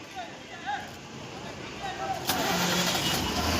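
A car engine starts and settles into a steady running rumble as the vehicle is moved, rising partway through beneath people talking nearby.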